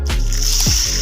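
Water is poured close-up onto rice in a bowl for soaking, a brief loud sloshing pour with a squishy splash midway.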